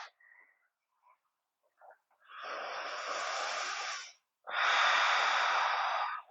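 Deep, slow yoga breathing close to the microphone: a long breath in and then a longer breath out through the mouth, each a steady airy rush, after a few faint small sounds.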